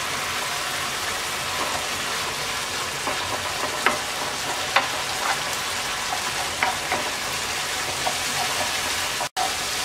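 Dried chepa shutki fish fries in a pan with a steady, dense sizzle, broken by a few faint clicks as it is stirred. There is no talk.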